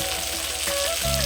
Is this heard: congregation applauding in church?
no